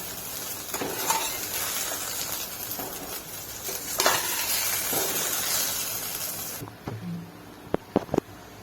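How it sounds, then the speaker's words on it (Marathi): Okra stir-frying over high heat gives a steady sizzling hiss with occasional scraping stirs, then it quiets and a few sharp utensil clacks ring out near the end. "भेंडी फुल गॅसवर परतवून घ्यायची आहे, म्हणजे चिकट होणार नाही।"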